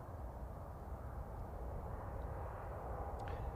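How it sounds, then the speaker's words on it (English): A Ryanair plane arriving from Tenerife on approach to Manchester Airport gives a faint, distant, steady engine rumble for a few seconds. "Ryanair from Tenerife on approach."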